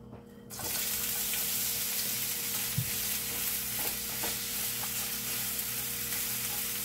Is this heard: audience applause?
no